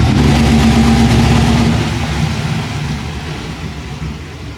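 A 1980 Corvette hot rod engine rumbles nearby as the car is moved, its low idle strong at first and then easing to a steadier, slightly softer drone.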